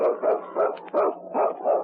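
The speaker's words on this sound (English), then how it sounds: "On, King! On, you husky!" A husky sled dog in the Yukon barks in a steady series of about six loud, close, evenly spaced barks, with no one talking.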